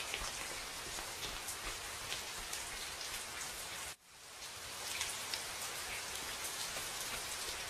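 Steady heavy rain pours down in a dense hiss, dropping out for a split second midway before resuming just as strong.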